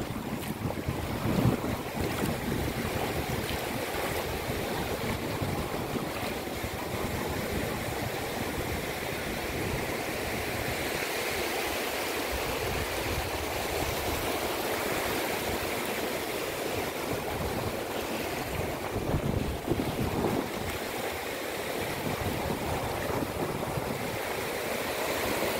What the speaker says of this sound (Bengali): ওই যে মাছ ধরার একটা ট্রলার আসতেছে